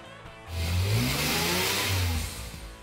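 A Dodge Charger engine idles, then revs up strongly for a couple of seconds before settling back to a steady, rumbling run; close and fairly loud.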